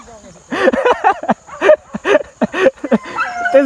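A dog gives a close, loud series of short yips and whining cries in quick uneven bursts, lasting a few seconds.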